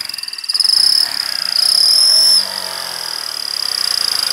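A turbo whistle fitted to a motorcycle exhaust gives a loud, close, high steady whine that swells twice as the engine is revved, then settles back to a constant whistle, with no talk.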